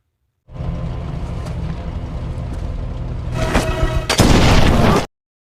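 Landmine detonation in the war film Sisu: a sustained loud rumbling roar that swells into a sharp, crackling blast near the end, dense and close with debris-like hiss.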